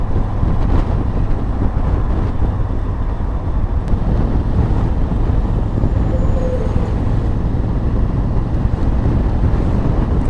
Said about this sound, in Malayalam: എന്താ രസം, നല്ല തണുത്ത കാറ്റ്, നല്ല മഴ.